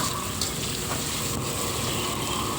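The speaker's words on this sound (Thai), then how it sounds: "พริกหอมแล้วนะคะก็ใส่หมูสับลงไป ผัดหมูให้สุกก่อนนะคะ" Minced pork sizzles and crackles in a pan with fried garlic and chili, a dense continuous hiss with faint scraping of stirring, close and steady with no talk.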